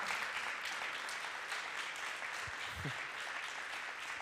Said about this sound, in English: Let's have a final round of applause for Kata, for Anh Nguyen.